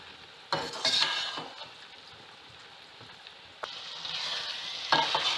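Chana dal, pre-boiled with salt, and keema frying in a pan, giving a steady close sizzle with bursts of scraping and clatter as the mixture is stirred, with no talking.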